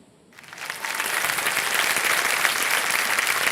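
A studio audience breaks into applause to welcome a guest on a televised quiz show, rising from near quiet into steady, dense clapping from many hands that holds full and even.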